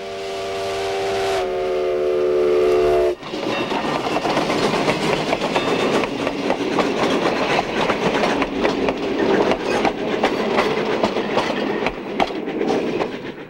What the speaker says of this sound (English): bringing with them the sounds and smells of a working steam locomotive.